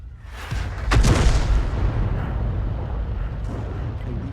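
A heavy boom as M44 artillery shells strike a tank in a video game, followed by a long, low rumbling roar that slowly fades.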